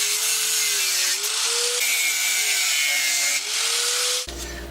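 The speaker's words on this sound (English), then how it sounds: "I'll just take my Dremel cut-off tool and I'll cut these studs off." A Dremel cut-off tool grinds through metal studs with a loud, close, continuous high whine whose pitch dips and recovers under load, then stops abruptly near the end.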